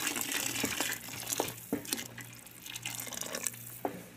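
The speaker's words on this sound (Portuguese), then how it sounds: "agora eu vou adicionar aqui a água" Hot water pours into a pot of homemade soup at the stove, a close splashing trickle with scattered clinks and drips, moderately loud and without talk.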